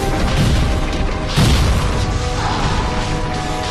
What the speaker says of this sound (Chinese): 还可以看到他地上那只爆炸箭还爆了一下，还打断我们的投技了